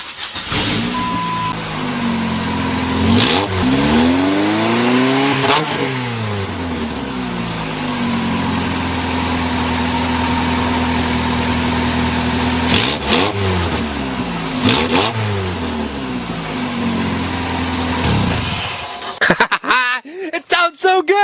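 A car engine fitted with new exhaust headers revving repeatedly, rising and falling sweeps over a loud steady idle, close and aggressive, with a few sharp blips near the end.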